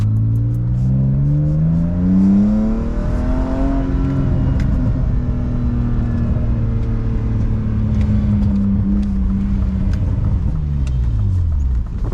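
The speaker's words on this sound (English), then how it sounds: "It literally sounds like something is breaking off the car" A BMW E36 driving along with loud, steady engine drone and shifting harmonic rumble throughout, a harsh scraping from underneath blended into the continuous road and engine noise.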